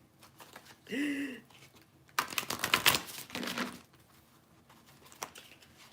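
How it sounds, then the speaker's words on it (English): A deck of oracle cards is shuffled by hand in a quick riffle of rapid papery flutters and pattering for about a second, with a brief voice just before and softer card handling afterwards. "I finally figured out how to shuffle these cards better"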